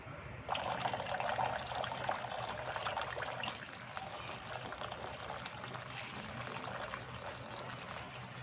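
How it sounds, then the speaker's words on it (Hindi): Water runs and splashes steadily for the whole stretch as green chillies are washed. "इस तरीके से आप पानी में डाल के अच्छी तरीके से आपने इसको धोना है"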